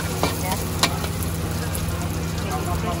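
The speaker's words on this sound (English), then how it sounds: "If you have to fry more to make it crispy a little bit" Crispy pork belly frying in hot oil at a Thai street food stall, a steady dense sizzle running the whole time with a few sharp pops and spatters, a low steady hum underneath.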